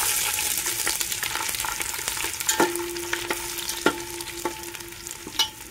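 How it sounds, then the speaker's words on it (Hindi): Ginger and garlic fry in a pan for khichdi, giving a steady close sizzle with scraping and light clinks as the spoon stirs through the pan. "अदरक लहसुन डाल देते हैं।"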